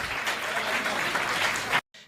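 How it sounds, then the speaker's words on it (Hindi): An audience at a comic poetry gathering claps loudly and continuously, a thick burst of applause that stops abruptly, then picks up again faintly. "तालियां जोरदार बजना चाहिए।"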